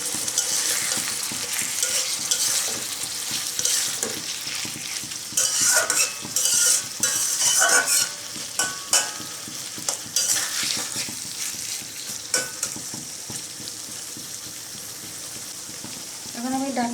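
Potato poppy seed curry with shrimp frying and being stirred as a little water hits the pan, a loud burst of hissing sizzle mid-way, then continued scraping stirring strokes and utensil clinks close by.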